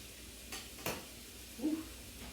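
Steak carnitas sizzle in a pan just after being flipped, a soft continuous hiss under a few light clinks and scrapes of a utensil against the pan, with no speech.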